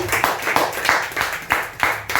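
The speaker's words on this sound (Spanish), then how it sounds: "Denle un fuerte aplauso a Dios, que Él vive y Él reina por siempre" Worshippers at a church teaching service clap in a steady rhythmic beat, loud, sharp hand claps repeating roughly every half second, close and continuous for the whole moment.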